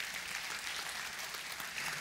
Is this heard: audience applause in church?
yes